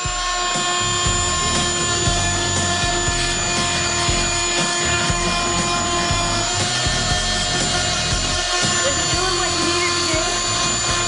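A Fein MultiMaster FMM 250Q oscillating tool grinds paint or tar off bricks with a continuous high, buzzing whine and rough rasping scrape, running close and loud throughout.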